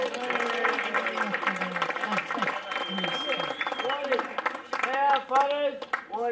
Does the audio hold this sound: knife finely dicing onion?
no